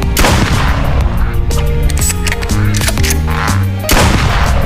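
Loud gunshot blasts from the Duck Hunt video game, several sharp reports with a game music melody playing steadily underneath, close and prominent throughout.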